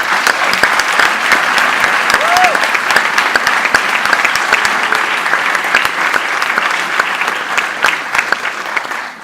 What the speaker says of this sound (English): give another round of applause for Mr.